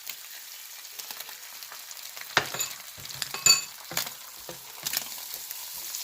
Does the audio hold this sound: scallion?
yes